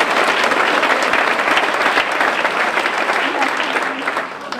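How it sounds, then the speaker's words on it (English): A large audience at a motivational seminar bursts into sustained, loud applause, thick and continuous, tapering slightly toward the end with faint voices mixed into the crowd. "Give yourselves a round of applause."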